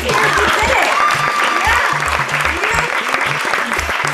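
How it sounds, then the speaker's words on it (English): Sustained audience applause fills a fundraiser luncheon for a breast cancer advocacy group, steady and full-bodied for the whole stretch, with excited voices calling out over the clapping. "Can we get a round of applause here?"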